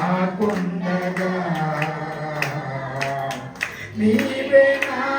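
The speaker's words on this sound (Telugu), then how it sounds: "కొడదామా చప్పట్లు." Worship congregation clapping hands in rhythm with a sung worship song, steady claps sounding under a prominent singing voice and music.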